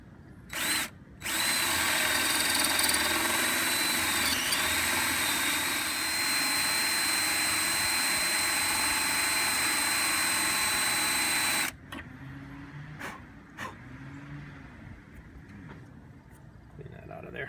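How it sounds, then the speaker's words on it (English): A Forstner bit bores a hole through a guide jig, a loud continuous power-drill whine for about ten seconds, with short bursts before and after and quieter handling sounds once it stops. "And I do that using one of these Forstner bits"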